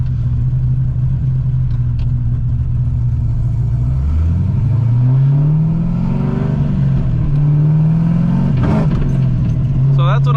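An LS-swapped Nissan 300ZX engine revs loud and close, its pitch climbing then dipping as power briefly cuts before surging back, with a steady droning rumble throughout and no talking.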